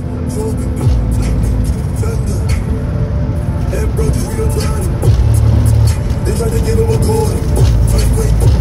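A car driven aggressively with its engine revving and accelerating hard, a loud continuous roar heard from inside the cabin, with people talking over it.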